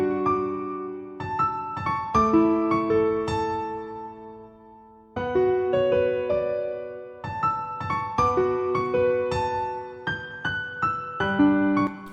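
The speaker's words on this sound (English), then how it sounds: "I'm going to show you the piano pattern I made and why I chose to make it sound like this" Piano pattern for a type beat made in FL Studio, with layered chords and melody notes in repeating phrases, a brief gap near the middle, played alone with no voice.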